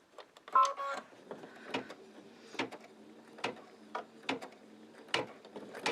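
Embroidery machine stitching a shamrock on chenille, giving irregular mechanical clicks and short whirring bursts with brief pauses as it stops to turn, close and moderately quiet.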